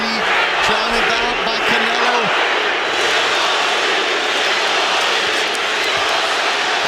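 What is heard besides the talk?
boxing crowd cheering for Gennady Golovkin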